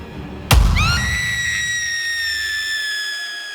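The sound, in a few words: old woman's shrieking cry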